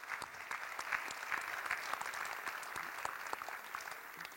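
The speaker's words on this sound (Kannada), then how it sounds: "ಮತ್ತೊಮ್ಮೆ ಚಪ್ಪಾಳೆ ಸುಚಿತ್ರಾ ಮತ್ತು ವಿನುತಾ ಅವರಿಗೆ." An audience at a school drama performance claps continuously, a steady patter of many hands heard fairly faint and distant, with no talk over it.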